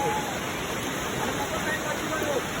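A waterfall near Gagangiri Ashram roars with a steady, dense rush of falling water, loud and close, filling the whole moment without a break.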